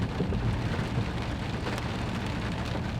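Heavy rain falls steadily outdoors during a trapping trip, a loud, continuous hiss of drops with a deep rumbling undertone throughout.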